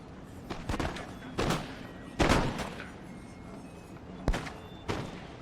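Musket volleys crack during a Napoleon: Total War battle, several sharp separate shots and short ragged bursts spaced irregularly over a low rumbling background.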